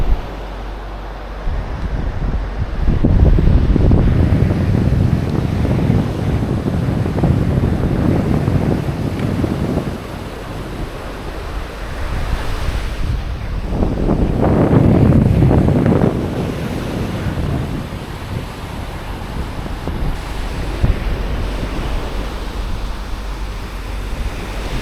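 Strong wind and breaking surf on the sandy beach at Canasvieiras on a gusty morning, with waves rolling in and swelling twice and heavy wind buffeting the microphone throughout.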